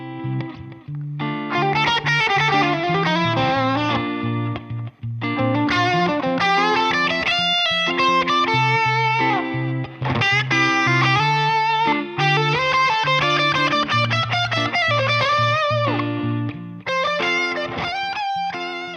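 Electric guitar played through a small pedal box of distortion effects, loud and sustained with heavy, saturated chords and riffs over about nineteen seconds, briefly dropping out around the five- and twelve-second marks.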